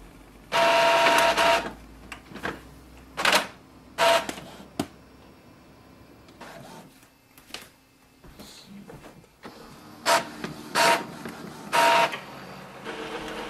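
An Epson XP-5205 inkjet printer making a copy, with repeated whirring bursts of its print head and paper feed, separated by short pauses and clicks, close and fairly loud.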